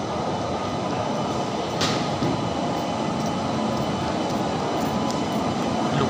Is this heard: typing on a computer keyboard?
no